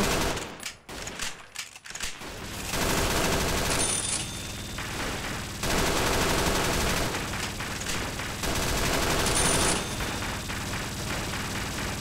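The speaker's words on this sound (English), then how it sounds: "Why does it sound like they're firing?" Sustained automatic gunfire in a heavily modded Fallout game, loud continuous bursts of fire that roll on for long stretches with brief pauses and a few scattered shots early on.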